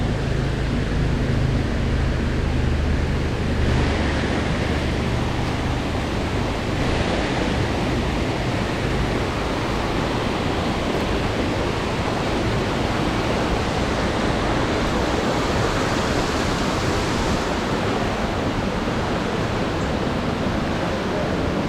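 Underground river water rushing through Lost River Cave in Bowling Green, Kentucky, a loud, continuous broadband roar of flowing water echoing steadily throughout with no breaks.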